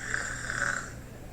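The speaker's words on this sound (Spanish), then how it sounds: "El que ronca es él" A person snores in one drawn-out, droning breath, fairly loud and close, with no talking.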